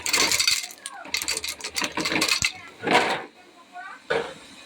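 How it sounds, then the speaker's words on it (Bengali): Batasha sugar drops clatter into a pan for chutney in several quick bursts of hard clicking and rattling, like small pieces tumbling against metal, with brief pauses between pours and a voice speaking nearby. "না বাতাসা দিয়ে দিচ্ছি"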